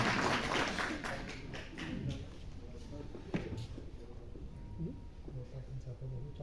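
At a book release function, an indoor audience applauds with scattered hand claps that thin out over several seconds, fairly faint, with speech over the clapping.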